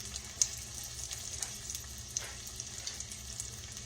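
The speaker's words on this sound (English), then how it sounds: "We're going to cook our fish first." Catfish nuggets frying in a pan, a steady close sizzle and crackle of hot oil with small pops scattered throughout.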